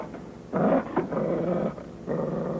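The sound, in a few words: dog growling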